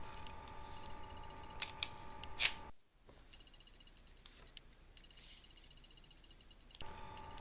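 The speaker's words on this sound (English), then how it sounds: "we clear the gun by removing the magazine and inspecting the chamber" A Browning Hi-Power 9mm MkIII pistol being cleared by removing the magazine. Several faint, crisp metallic clicks come close together and are followed by near silence with a couple of soft ticks.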